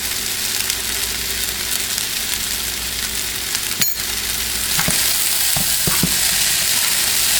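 Shrimp fried rice stir-frying in a pan, producing a loud, continuous close-up sizzle with a few sharp spatula knocks and scrapes against the pan.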